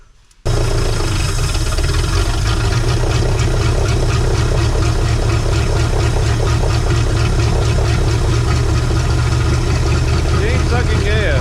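A 1968 Ford F100 truck engine idling steadily and loudly up close, a constant rumbling drone with a fast even pulse that starts abruptly after a brief quiet moment and runs without a break.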